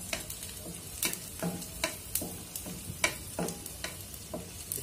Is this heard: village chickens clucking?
no